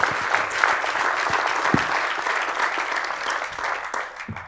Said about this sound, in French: on peut les applaudir pour ça